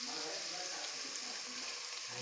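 Grated beetroot fries in oil in a pan with a steady, fairly loud, even sizzling hiss throughout, close by and without talking.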